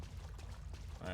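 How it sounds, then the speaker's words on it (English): A flash grenade from Resident Evil 4 drops into water with a brief pouring, splashing wash, and a voice comes in at the very end. "flash grenades bloody get stuffed in water"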